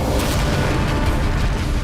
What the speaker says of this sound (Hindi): अब इस सीन में हम यहाँ पर एक धमाका होते हुए देख सकते हैं